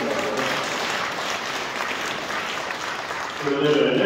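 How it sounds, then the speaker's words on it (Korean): An audience applauds at a church concert, a dense wash of clapping that swells toward the end, with talk mixed in. "박수 보내주시기 바랍니다"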